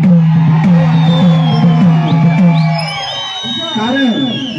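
Supporters whoop and cheer loudly at a Chhatrapati Sambhaji Maharaj Jayanti celebration in Barshi, with a strong close-up shouting voice rising over the crowd and the roar staying loud before easing slightly near the end.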